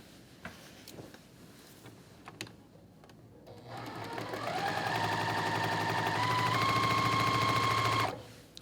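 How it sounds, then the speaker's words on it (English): After a few soft handling taps, a sewing machine stitches a quilt block seam with a quarter-inch allowance. Its fast, steady motor whir and needle chatter rise to a loud run of about four seconds, then stop abruptly. "I'm going to sew with a 1/4 inch seam down the edge of this."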